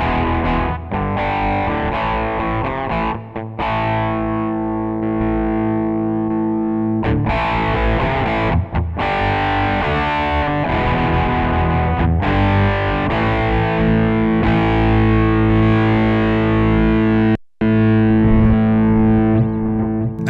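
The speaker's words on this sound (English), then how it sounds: "you can just sort of hear the gain kick in as you turn the knob" An electric guitar plays through a Sonicake amp with the gain knob turned up, giving a loud, continuous distorted tone with sustained chords that stops briefly and cleanly about three-quarters of the way through.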